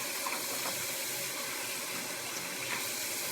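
Tap water runs steadily while a makeup box is rinsed out to clear loose powders in a sink, a continuous close hiss without pauses.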